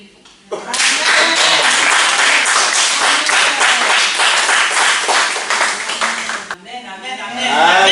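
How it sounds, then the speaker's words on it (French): A congregation at a church conference breaks into loud, sustained applause that fills the room for about six seconds, then cuts off as a voice resumes speaking. "On applaudit le Seigneur."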